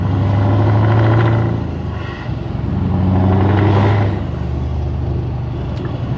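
A Scania R500 V8 truck with a loud exhaust is revved in two long throttle blips that swell and fall back, then settles into a deep, rumbling idle.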